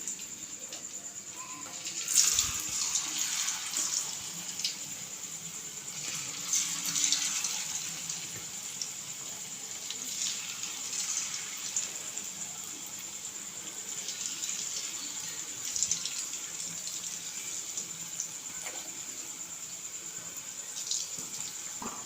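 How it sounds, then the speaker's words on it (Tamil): Potato chips frying in hot oil, a steady faint hiss and bubbling with occasional louder crackles, heard alone without talk. "மீதி இருக்கிறதையும் இந்த மாதிரி போட்டு பொறிச்சு எடுத்துடுவோம்"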